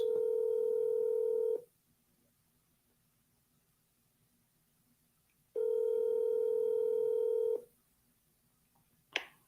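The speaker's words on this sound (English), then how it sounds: "It's ringing." Outgoing telephone call ringback: two long, loud electronic ring tones of about two seconds each, separated by quiet gaps, followed by a brief click.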